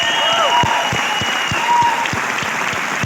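Steady applause from an audience at a Modicare gathering in Rajasthan, with a few evenly spaced, louder claps standing out and a faint tonal whine above the crowd noise, filling the full moment with no speech.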